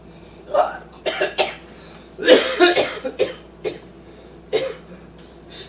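A person coughs in several short, separate bursts, some louder and some fainter, spaced irregularly through a quiet scene with no talking.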